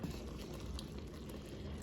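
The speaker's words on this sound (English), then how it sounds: "I just really want it to simmer." Quail gravy made with added water simmers in a pan over low heat, giving a steady, soft bubbling hiss that stays even throughout, with no talking.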